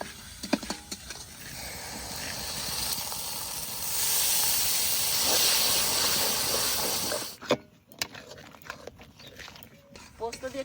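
Poppy seed paste cooking with chilli paste, Kashmiri chilli powder and salt in a pan for katla posto fish curry gives a steady loud hiss that cuts off around seven seconds, followed by scattered clinks and stirring.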